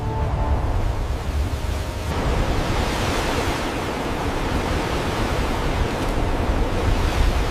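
A continuous wash of crashing surf, broad and roaring, swelling slightly after the first couple of seconds, with no voices.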